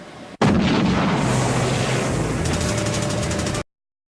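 A military artillery gun fires a single loud, close boom that cuts in sharply, then rolls on as a long rumbling blast and echo for about three seconds before stopping abruptly.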